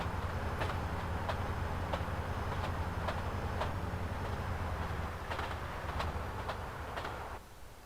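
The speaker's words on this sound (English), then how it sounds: "Does seem like the train is slowing down" A train in GTA San Andreas rumbles steadily as it slows, its low drone punctuated by a regular clicking of wheels over rail joints that spaces out, then eases off near the end.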